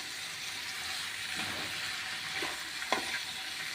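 Sugar is stirred into a ginger pickle, giving faint scraping and soft stirring scrapes over a low, steady background hiss, with a few small knocks near the end.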